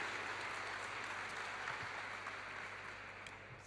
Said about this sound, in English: give a very, very, very, very warm round of applause for our next speaker